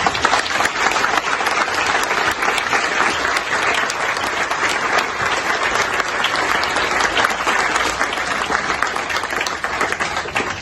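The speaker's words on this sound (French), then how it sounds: "Je voudrais qu'on les applaudisse s'il vous plaît." An audience applauds the artists at a street art inauguration in Chanteloup-en-Brie, the clapping dense, loud and unbroken for about ten seconds.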